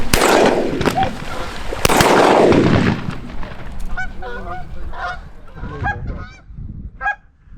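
Geese honk overhead during a goose hunt in Pennsylvania, with repeated nasal calls from a flock at close range. At the start, loud shotgun blasts cover the calls.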